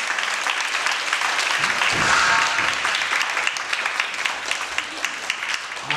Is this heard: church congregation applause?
yes